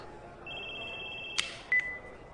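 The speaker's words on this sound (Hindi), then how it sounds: "तुम्हारा फोन बज रहा है।" A mobile phone rings with a thin, steady electronic tone lasting about a second, then a click and a brief second beep, all faint against quiet room noise.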